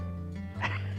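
A dog at an off-grid homestead gives one short yip-like bark over a steady low hum, close and moderately loud.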